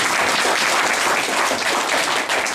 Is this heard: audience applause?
yes